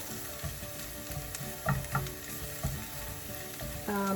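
Garlic and shallots sizzle in a pan for fried rice under a soft, steady crackle, with a few gentle stirring knocks and scrapes, close up and without talking.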